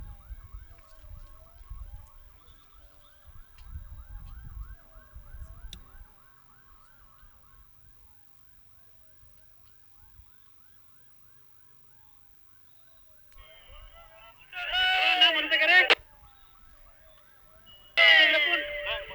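An ambulance siren wails in short loud bursts as it arrives at an airport plane crash site, preceded by a faint distant siren and low rumbling background.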